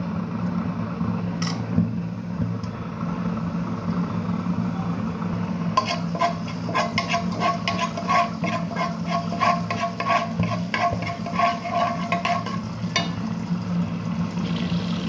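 Ginger frying in soybean oil in a frying pan, a steady low sizzle throughout with a denser crackling, spattering texture picking up midway, close and alone with no talking.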